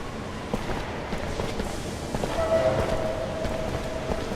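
Train at a prison camp in the video game Mars: War Logs, a steady low rumble of the halted train with a faint drawn-out whistle-like tone partway through, heard alone without talk.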